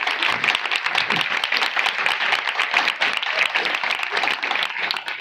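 A congregation claps steadily and densely throughout, a loud continuous wash of many hands with a faint voice underneath at times.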